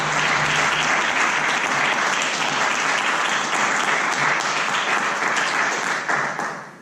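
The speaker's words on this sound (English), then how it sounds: "Can we give another round of applause for them?" At a doctoral lecture recital, the audience applauds the performing musicians with loud, sustained, dense clapping that holds steady for several seconds before tapering off at the end.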